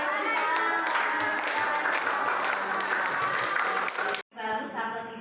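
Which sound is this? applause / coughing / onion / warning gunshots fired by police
applause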